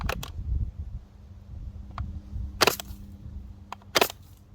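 A faulty Spyra water blaster fires twice in sharp, brief bursts a little over a second apart, with low mechanical rumble and handling noise between shots.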